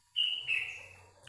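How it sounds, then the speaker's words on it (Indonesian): Birds chirp nearby with a few bright, sustained high tweets over a quiet low background hum. "Berisik ya teman-teman, tuh ada burung"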